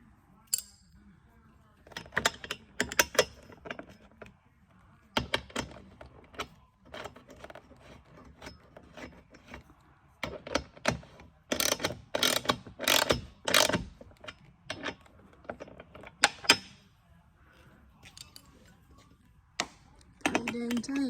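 A ratchet clicks in short runs as roof rack bolts are tightened on a two-door Jeep Wrangler JL, with metallic clinks between bursts and someone talking quietly at times.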